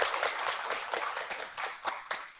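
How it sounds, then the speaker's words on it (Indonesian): A small audience at an Islamic kindergarten gathering claps for a teacher, a short burst of distinct, uneven handclaps that thins out into a few scattered final claps. "Tepuk tangan dong buat Bu Yayu."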